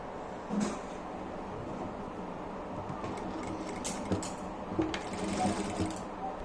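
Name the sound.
sewing machine stitching a folded fabric edge for a mask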